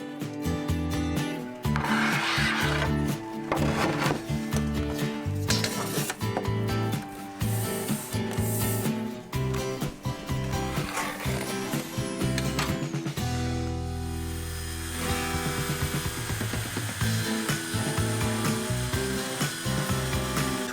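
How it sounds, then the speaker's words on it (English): A table saw cuts wooden shelf pieces lengthwise during a home renovation, a loud, dense motor whine and blade rasp through the wood that shifts in pitch as the cut proceeds, close and continuous. "we used a table saw to cut them down to size"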